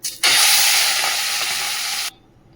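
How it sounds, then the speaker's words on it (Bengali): A fish head frying in a hot pan gives a loud, steady sizzle and hiss that starts abruptly, holds for about two seconds with faint bubbling crackles, then cuts off sharply to near silence. "চলো মাথাটা ভেজে নিই"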